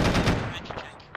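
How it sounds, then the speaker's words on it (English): A short, close volley of rapid rifle shots from an Arma-style military shooter during a bay invasion, dense at first and then thinning to a few scattered cracks. "Ooh, you got a headshot on that guy, nice."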